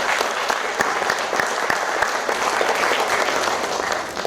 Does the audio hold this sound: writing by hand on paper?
no